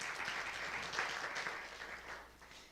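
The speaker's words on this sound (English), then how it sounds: "let's give a round of applause for being here" A crowd applauds steadily, a dense patter of clapping hands at moderate volume that tapers slightly toward the end.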